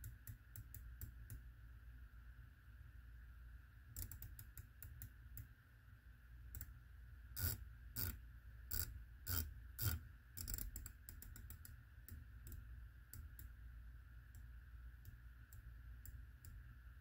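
US Optics BFX-10 rifle scope turrets being turned, giving a run of faint, sharp clicks, first sparse, then quick bursts and a cluster of louder clicks mid-way, over a low steady hum, with nobody speaking.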